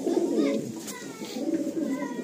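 A pigeon of a fancy breeding line coos close by, low soft throaty calls repeating, with faint background voices.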